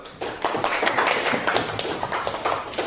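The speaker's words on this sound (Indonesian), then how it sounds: "tepuk tangan dulu." Brisk clapping from a classroom audience at an Indonesian university orientation event as a student is called forward, a busy patter of many hands held at a steady level.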